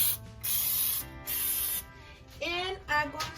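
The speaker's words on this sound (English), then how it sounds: "I'm going to put a spray of this to prevent don't stick" Two long bursts of non-stick cooking spray hiss loudly from an aerosol can onto a baking tray, each lasting about half a second, followed by clattering and scraping of the tray.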